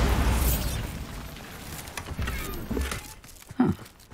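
A Bombarda explosion spell in the Hogwarts Legacy video game, a loud boom at the start that decays into rumbling debris, followed by scattered small clatters and a thump.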